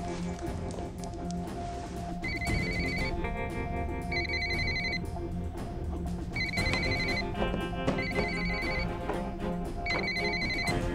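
A telephone rings in a Turkish drama scene, with repeated bursts of electronic ringing separated by short pauses, over a continuous bed of background music.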